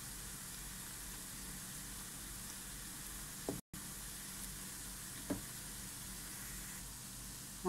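Sausages fry in a pan as they turn brown, giving a steady, soft sizzle with a faint hiss throughout and one very brief dropout partway through.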